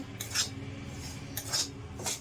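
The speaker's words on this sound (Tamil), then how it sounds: "அந்த ரவையை தட்டில் போட்டு நம்ம இப்போ" Roasted semolina clatters onto a plate in three brief metallic scrapes and clinks, close and moderately loud, with quiet gaps between them.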